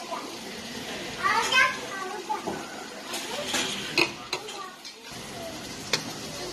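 Peeled tomatoes being stirred into aloo keema in a hot pan, with irregular scraping and clacking spoon strokes over a soft sizzle, close by, with faint voices in the background.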